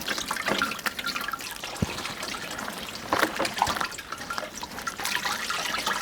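Water running and splashing during koova (arrowroot) preparation, a continuous trickling and dribbling with occasional drips and sloshes, close and moderately loud.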